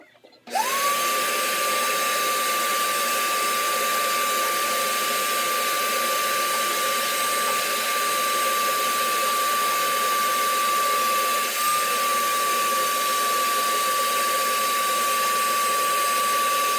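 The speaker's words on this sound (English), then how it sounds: "I'm going to take it over to the shop vac and shop vac it out real quick" A shop vac cleans out a drilled arboreal tarantula enclosure. The motor switches on with a thump and then drones loudly and continuously with a steady high whine, close to the microphone, with no talking.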